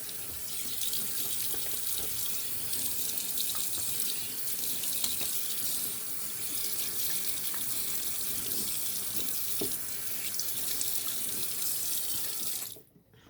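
Tap water pours steadily into a bathroom sink as a face is rinsed after a shave, a close continuous splashing rush with small shifts as hands move through the stream, cutting off abruptly at the end.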